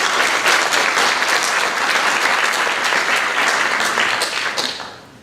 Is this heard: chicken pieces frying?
no